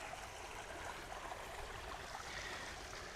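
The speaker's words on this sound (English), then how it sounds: "Let's sit here and listen to the water" A stream flows steadily beside a walking route in Tokyo in summer, a constant broadband rush and trickle of water with no talking over it.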